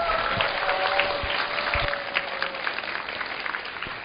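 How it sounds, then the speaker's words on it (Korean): An audience at a lecture event claps steadily, a dense patter of applause that holds for several seconds and slowly thins toward the end, with no voices. "큰 박수로 한번 부탁드려 보겠습니다"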